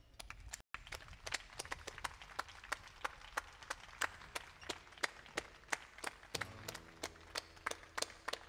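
An audience claps in memory of a singer at the Voci per San Biagio concert. The clapping is fairly faint and steady, with crisp hits in an even rhythm, and music joins near the end.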